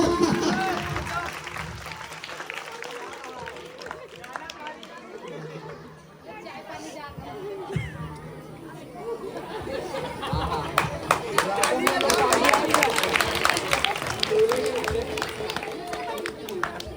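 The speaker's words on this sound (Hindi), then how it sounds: "ताली बजाओ भैया" An audience claps and chatters during a children's play about the dowry system, with a quieter lull midway before a denser burst of applause mixed with crowd talk builds toward the end.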